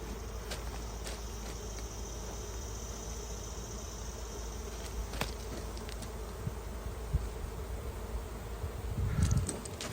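Honeybees buzz during a July hive inspection, a steady broad insect drone holding close throughout with small shifts and a brief louder rustle near the end, no talk.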